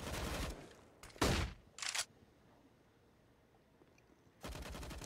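Gunfire rattles in a Counter-Strike match on the Vertigo map, bursts of rapid automatic shots coming in several separate clusters, fairly close and sharp against a quiet background, with no talk over them.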